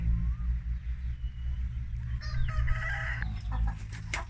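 Chickens cluck and a rooster crows nearby, with a constant low hum of farm noise underneath.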